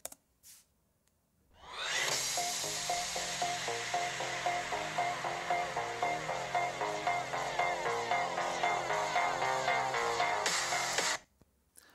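Busy, rhythmic music plays steadily through small ONE-NETBOOK 5 laptop speakers at 50% volume for about ten seconds after a brief quiet start, bright and slightly thin, with no talking.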